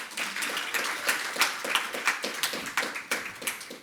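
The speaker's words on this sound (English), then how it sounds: "Give her a round of applause." Audience applause for a panelist at a panel discussion on gender, poverty and the economy, a room of people clapping steadily and fairly close, with no talk over it.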